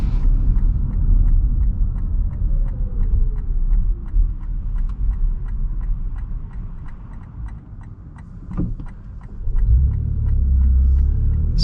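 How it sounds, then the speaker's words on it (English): A 2021 Lexus RX 450h F Sport hybrid rolls from a stop as the engine cuts in abruptly, a low rumble with a steady turn-signal ticking inside the cabin. "See what I mean about the engine starting up from a stop? It just comes on a bit abruptly."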